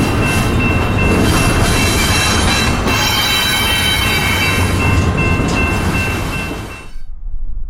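A loud freight train carrying Amazon Prime containers rumbles past close by, steel wheels clattering and squealing over the rails, before the noise cuts off sharply near the end.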